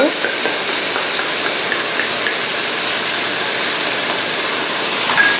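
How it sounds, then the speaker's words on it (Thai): Lotus stems and shrimp stir-fried in a pan with sugar, fish sauce and oyster sauce give off a steady, dense sizzle that holds even and close from start to finish, with no voices. "ทีนี้ก็ผัดให้เข้ากันค่ะ"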